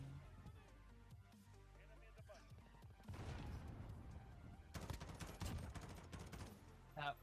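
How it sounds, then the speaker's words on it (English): A grenade goes off in a video game, a burst of booming, crackling blasts that swells near the middle and again toward the end over a steady rumbling bed of game noise. "That was a grenade."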